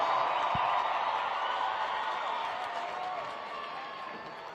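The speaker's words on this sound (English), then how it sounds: "That deserves a round of applause" A large stadium crowd at a Monster Jam event cheers and applauds in a broad, sustained roar that slowly fades, heard from within the arena.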